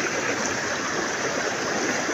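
A forked river of two branches joining in a scenic outdoor spot, water rushing steadily in a broad, continuous wash that stays fairly close and even throughout, with no voices over it.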